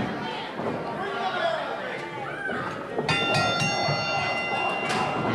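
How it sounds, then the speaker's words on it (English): Wrestling ring bell rings several times at a live wrestling event, bright ringing strikes cutting through crowd chatter and an announcer talking over the arena noise. "Sound of the bell, and here we go."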